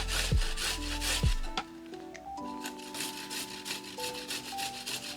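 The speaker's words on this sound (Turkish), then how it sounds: "Sarımsağımızı da rendemizin ince tarafıyla rendeliyoruz." Onion and garlic are rubbed against the fine side of a metal kitchen grater in a home kitchen, making repeated close scraping strokes. Faint tonal background sounds run underneath, and no one speaks.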